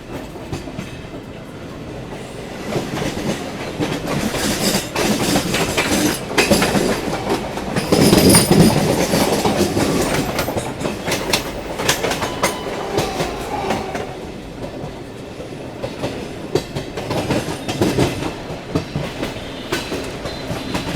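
The Sealdah–New Delhi Rajdhani Express rolls along with a steady rumble and rhythmic clickety-clack of wheels on rail joints, swelling louder midway with faint wheel squeal, continuous and close throughout.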